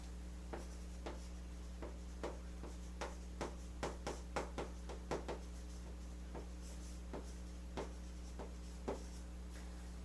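A marker or chalk writes on a board in a run of faint, quick taps and short strokes, with a quiet room hum underneath and no talking.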